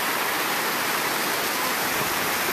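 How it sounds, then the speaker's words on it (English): A waterfall roars in a steady, dense rush of white water pouring into a lake in the Enchantments. It sounds close and continuous, with no voices. "Look at this waterfall"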